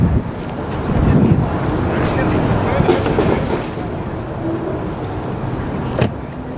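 A Porsche Taycan electric car driving laps on a track gives a steady, loud rush of road and wind noise that eases off slightly partway through, with a brief thump near the end.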